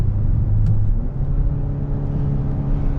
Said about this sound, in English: Here's some more downshifts